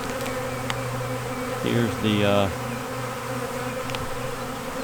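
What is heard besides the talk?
honeybees buzzing around a hive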